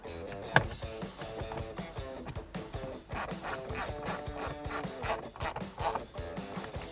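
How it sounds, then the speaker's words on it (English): A 1/4-inch drive ratchet fitted with a T20 Torx bit tightens screws while a 2014-2018 RAM 1500 radio is installed. It gives a rapid, continuous clicking pawl rhythm close by, with a sharp knock near the start. "I'm going to take my 1/4" drive with my T20 Torx right here"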